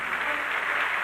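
An audience of white-capped Navy auxiliaries applauds young Sisters of Mercy student nurses at an induction ceremony at New York City Hall, a steady, dense burst of clapping filling the whole short moment.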